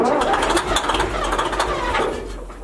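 A revived Deutz locomotive engine runs after its first start, a loud, close, rumbling chug with rhythmic knocking and a fairly steady idle, with a voice faintly in the background.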